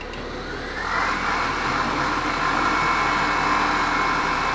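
Duyunov electric motor spinning at 3000 rpm on a test bench, giving a steady, loud whirring hum that swells slightly after the first second and holds constant, with no talking.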